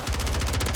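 Rapid automatic fire from a new SMG in Warzone, loadout fitted with a muzzle for recoil control, a fast, continuous burst of closely spaced shots, loud and close with no talk.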